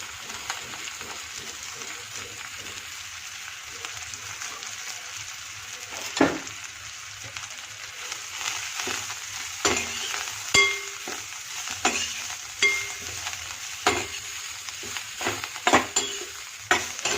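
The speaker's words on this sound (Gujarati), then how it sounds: "પછી એમાં આપણે ભાજી ઉમેરી દઈશું" Leafy greens fry in oil with a steady sizzle, broken by repeated scrapes and clinks of a spoon stirring against the pan.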